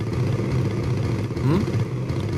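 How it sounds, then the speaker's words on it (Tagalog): A motorcycle engine runs steadily nearby, a low, even idle rumble with faint mechanical clatter that holds at the same loudness throughout. "Off ko muna yung makina ng motor"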